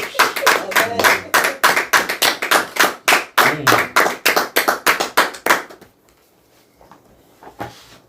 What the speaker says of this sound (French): Applaudissons pour elle.